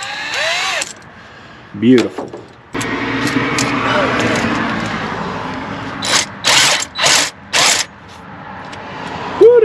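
A power drill at work on an old Ford F150 that has sat unused for about 29 years, with brief whirring bursts and a run of short repeated drill pulses near the end, and people talking in between.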